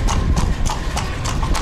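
Horse hooves clip-clop in a steady, close rhythm on a street in Luxor, Egypt, with several sharp, regular strikes over a busy, noisy background.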